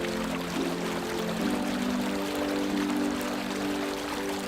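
A freshwater spring runs straight into the ocean at Ara Beach, a steady, continuous rush of flowing water with no pauses.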